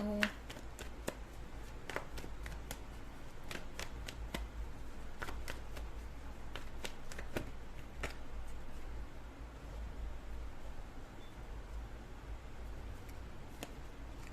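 A tarot card deck is shuffled and handled up close, giving a steady run of crisp riffling snaps and soft paper rustles, with no voice over it.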